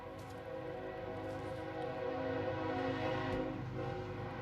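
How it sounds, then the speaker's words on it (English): A train rumbles far off in Texas with its horn sounding, a faint, steady droning chord of horn tones over low rail noise that persists throughout. "there's the train in the background."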